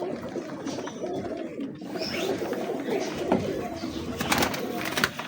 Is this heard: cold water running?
no